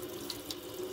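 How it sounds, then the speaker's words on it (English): Tap water runs steadily into the pivot of a Buck 110 folding knife during cleaning, a soft continuous stream with a brief brighter splash near the end. "complete the whole actuation with water running into the pivot"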